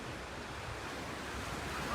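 Sea waves wash onto a sandy beach beside a seaside restaurant in Pattaya, a soft, steady surf roar mixed with wind buffeting the microphone, faint and without talk.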